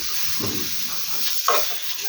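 Eggplant and pumpkin frying in a pan for a mashed bharta dish, a steady close sizzle with a few soft stirring scrapes and one brief clink.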